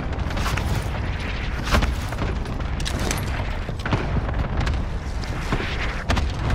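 Cluster airstrike in a first-person shooter video game, a rolling series of heavy booms and rumbling blasts with sharp cracks scattered throughout, loud and continuous over several seconds.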